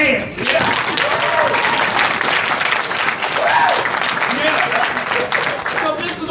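A conference crowd at a mental-health gathering claps hands in a loud, continuous burst, with voices calling out and talking over the applause throughout.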